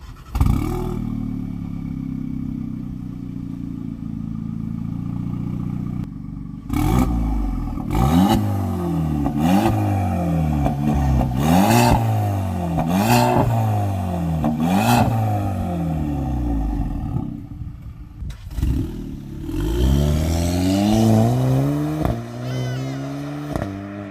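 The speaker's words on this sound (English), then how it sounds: "So let's just take a listen to the exhaust and actually experience how this thing drives." A VW Polo GTI's exhaust drones from inside the moving car, climbing in pitch through several hard accelerations, each rise cut off by a gear change before the next pull, loud and continuous.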